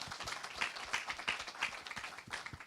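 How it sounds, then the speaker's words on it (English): Audience applause at a talk or panel event, a steady patter of many hands clapping at moderate distance with no voices over it. "Please give Shepo a round of applause"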